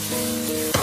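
Sweet potato stems and minced pork stir-fry in a wok with a dense, close sizzle, ending in a quick scraping toss of the spatula; no speech.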